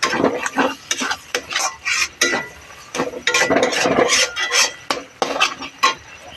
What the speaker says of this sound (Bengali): এর মধ্যে টমেটো কুচি আবার খুব ভালো করে নাড়াচাড়া দিয়ে দেবো